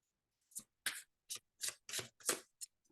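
A rapid series of papery riffles and flicks as a deck of tarot cards is shuffled, in short bursts separated by brief pauses.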